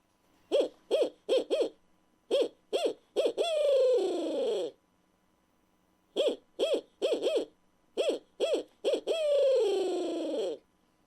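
A turkey locator call imitates an owl's hooting in a nine-note sequence, heard twice. Each run has clipped rhythmic hoots ending in a longer drawn-out, falling hoot, loud and close, with silence between the runs.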